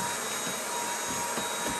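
A Dyson vacuum cleaner runs with a continuous, even, broadband whooshing roar at close range, steady in level with no pauses or voices.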